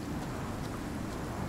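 Steady rain hisses in a survival video game, forming a faint, even wash of falling water with no distinct drops or rumbles.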